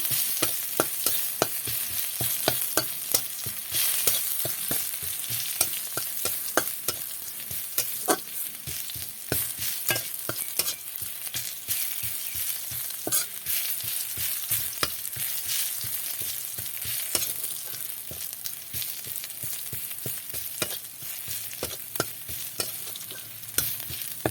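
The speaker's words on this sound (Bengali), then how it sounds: "রসুনটাকে একটু ভাজা ভাজা করে নিতে হবে" Continuous sizzling of garlic frying in a pan with rapid, repeated stirring taps and scrapes throughout, close and steady, no talking.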